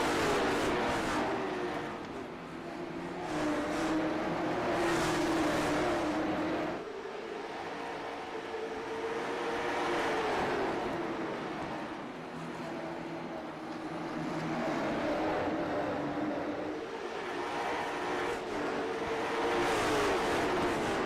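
Race cars in an iRacing short-track event drone continuously, engine notes rising and falling as they lap and battle closely, with a sustained loud roar throughout.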